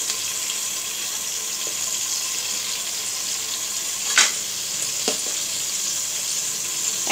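Spices sizzle in hot oil for a Bengali snakehead fish stew, a steady high frying hiss with a couple of sharp clinks or stirring knocks partway through; no speech.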